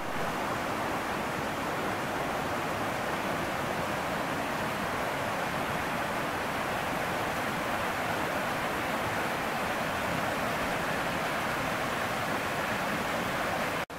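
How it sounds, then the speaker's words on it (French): Autumn water spills down a series of small cascades, making a steady, dense rushing roar that holds evenly throughout with no talk. "C'est quasiment des mini-cascades."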